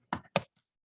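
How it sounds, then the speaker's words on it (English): A few quick keystrokes on a computer keyboard, two clear taps and a faint third, sounding close but quiet. "sorry for my typing"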